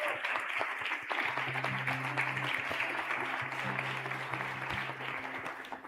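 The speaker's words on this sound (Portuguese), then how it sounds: "Aplauda Jesus mais uma vez." A church congregation claps steadily for several seconds, a dense wash of applause filling the room at moderate level, with a low sustained keyboard tone underneath.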